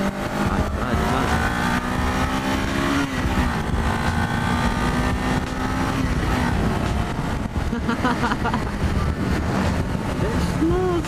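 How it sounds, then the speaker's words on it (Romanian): A blue motorcycle's engine runs steadily and loud, a continuous droning hum with shifting tones, heard up close outdoors. "despre motocicleta asta, e albastră"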